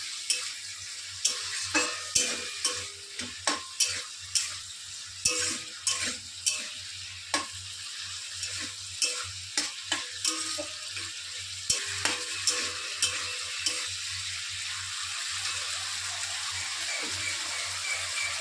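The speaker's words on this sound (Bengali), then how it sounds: "এই সবজিটা দিয়ে আগে একটু কষিয়ে নেব।" Vegetables for millet khichuri are stir-fried in a pot, with a ladle scraping and clanking in repeated strokes over a continuous sizzle, loud and close with no talk.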